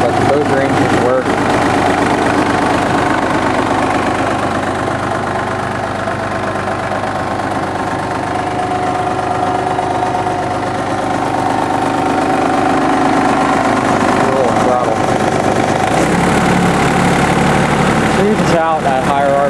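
A John Deere F1145 diesel mower engine runs loud and steady throughout, a close rumbling drone whose pitch shifts slightly near the end as the revs change, with talking underneath at times.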